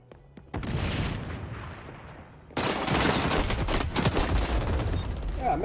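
AK assault rifle fire in the video game xDefiant: sustained automatic bursts, a lighter stretch and then a louder, denser barrage of rapid shots continuing to the end, with no talking.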